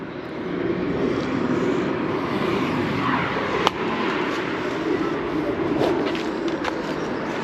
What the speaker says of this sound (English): Aeroplane over there taking off.